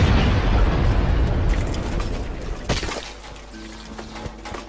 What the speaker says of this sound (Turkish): ne de güzel patladı böyle